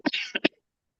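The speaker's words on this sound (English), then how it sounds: "The cough." A woman coughs twice in quick succession, two short, close bursts followed by silence.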